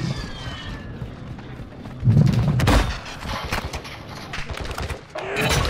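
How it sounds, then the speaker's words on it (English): Gunfire in Call of Duty Warzone 2, scattered shots and muffled bursts at moderate distance, mixed with thuds and game ambience, with a voice talking briefly. "I'm getting shot at hard."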